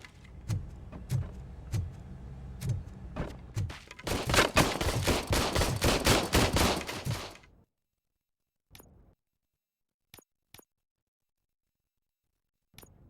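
Rapid automatic gunfire from a weapon in RoboCop Rogue City: a few spaced single shots, then a loud continuous burst lasting several seconds, followed by silence broken by a few isolated clicks.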